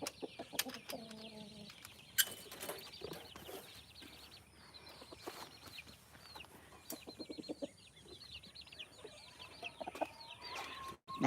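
A rooster clucks repeatedly in a farmyard, mixed with bursts of flapping wings and other fowl calls. The sounds come close and irregular, with faint talk in the background.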